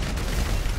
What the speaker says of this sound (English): This full auto shotgun does this.